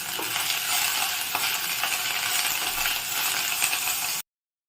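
Flattened rice (aval) being dry-roasted with salt in a pan, giving a bright rustling, scraping hiss with small clinks as it is stirred continuously, then stopping abruptly.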